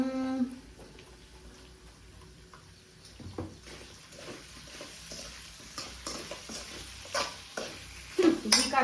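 Chicken deep frying in a pan while being stirred, with soft sizzling under scraping stirs and clinks of a utensil that grow louder toward the end.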